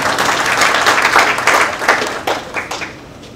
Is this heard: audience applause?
yes